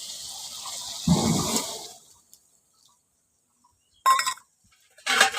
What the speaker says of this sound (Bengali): পরিমাণ মতো জলটা দিয়ে দিচ্ছি